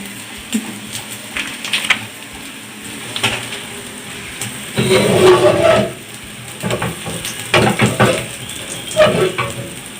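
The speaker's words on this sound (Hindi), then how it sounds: "तमाम कबाबों को हमने डाला है तेल में।" Aloo tikki potato kababs shallow frying in oil over medium heat, with close sizzling that swells in bursts, plus occasional clinks and scrapes from a turner in the pan.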